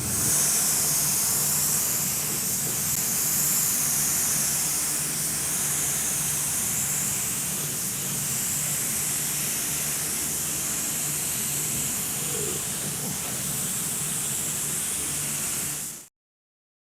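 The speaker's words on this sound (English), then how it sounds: "I'll step back and let you go to put in clear coat on that." A spray gun lays clear coat on the fender of a 1956 Chevy Sedan Delivery, making a loud, steady, close hiss of atomized paint that holds unbroken for about sixteen seconds before cutting off.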